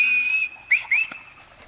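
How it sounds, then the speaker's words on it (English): A dog training whistle is blown in a steady high tone for about half a second, then in two short, bright rising chirps, close and alone, used to guide a dog in obedience work. "now I'm going to pitch my whistle"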